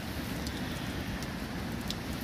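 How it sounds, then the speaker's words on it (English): Steady rain drums on a tent at a muddy winter wild campsite in woodland, a dense, continuous patter with a few sharper drop ticks and no voices. "it's literally rained from about 6 p.m. last night and like continued"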